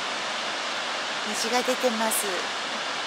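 A waterfall's steady roar, fairly close, runs as an even wash the whole way through while someone speaks briefly over it.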